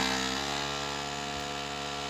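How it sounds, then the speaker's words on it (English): An SDS drill runs continuously, breaking apart a large rock, a loud, steady motor whine with a grinding edge, heard up close without pause. "We bought an SDS drill, hoping that we'd be able to break this big old rock apart."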